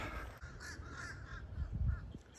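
Crows cawing in a small city park on a cold winter day, several harsh calls repeating at a moderate distance over faint outdoor background.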